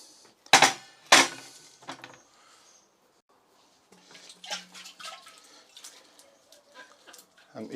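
Anise seeds get rinsed in a jar with water: two sharp splashy pours open the clip, then gentle sloshing, trickling and glassy clinks follow after a brief pause, fairly close.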